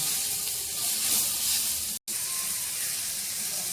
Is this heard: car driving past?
no